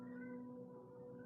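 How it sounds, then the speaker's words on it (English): A cat outside cries to be let in, giving a single drawn-out, faint meow with no one talking. "Oh my gosh, that cat."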